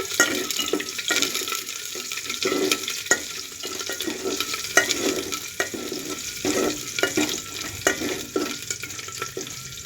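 Chopped onion and curry leaves hit hot oil with mustard seeds in a pan and are stir-fried, a steady loud sizzle broken by rhythmic scraping strokes of a spoon, up close with no talking.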